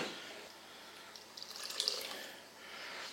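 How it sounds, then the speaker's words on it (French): Water running into a cooker of gizzard stew, a soft steady pour with faint trickling that swells slightly midway, alone and fairly quiet. "je pense que je vais rajouter un petit peu d'eau"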